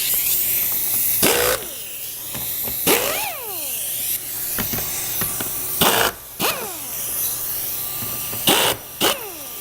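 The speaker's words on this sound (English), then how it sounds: "then we'll take our impact and we'll get these lag screws out all the way around the perimeter of the base" Impact driver backing lag screws out of the plastic base of a PolyJohn portable toilet, heard as several separate loud whirring bursts with pauses between them, close by and with no voices.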